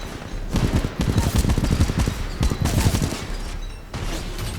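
Heavy gunfire from the video game Titanfall 2, loud bursts of rapid shots in several volleys separated by brief lulls, with a mech taking many hits and no talk over the shooting.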